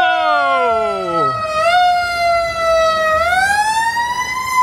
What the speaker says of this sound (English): Where's this fire truck going?